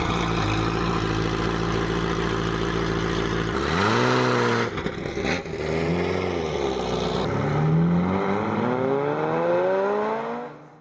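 Ferrari F40 with a mid-mounted turbocharged 2.9-liter V8 blips its throttle in repeated rising and falling revs after a steady loud drone. A final long sweep climbs high before cutting off. The sound is close and loud, with no talking.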